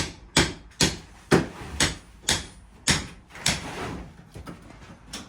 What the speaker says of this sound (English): now hammer it in there